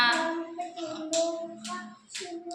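Hands clap at a Ganpati puja in a family's new home, a few sharp claps spaced about half a second apart, heard alongside a voice and nearby talk.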